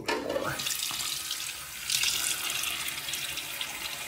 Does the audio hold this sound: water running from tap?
yes